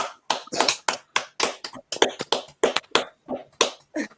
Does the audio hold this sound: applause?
yes